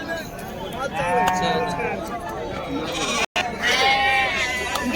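Several sheep bleat repeatedly, wavering calls overlapping close by, with a busy crowd murmur and voices in the background.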